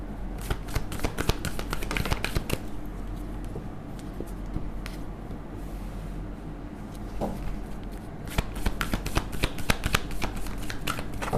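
Tarot cards are shuffled by hand in two bursts of rapid, crisp riffling and flicking, one at the start and one near the end, with quieter handling between and a low steady hum beneath.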